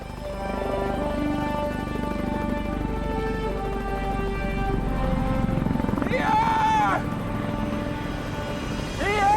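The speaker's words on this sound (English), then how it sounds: "My first inkling that something was happening was the noise of the helicopter." Steady rotor drone of a helicopter building in loudness, with a person speaking over it partway through.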